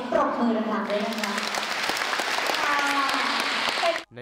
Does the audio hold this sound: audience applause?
yes